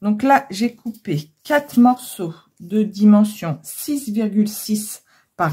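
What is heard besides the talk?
No distinct noise like a dog, phone or traffic.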